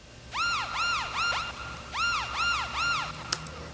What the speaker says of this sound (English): we've got this little siren in the background